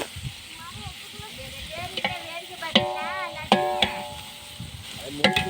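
Chicken biryani sizzling in a large frying pot in a village kitchen, with repeated stirring scrapes and clunks. Faint background voices come and go.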